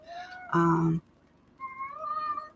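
A pet cat meows several times indoors, a loud harmonic call followed by a softer, rising meow, with quiet room noise between.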